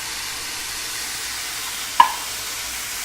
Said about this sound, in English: this has been frying for a minute or two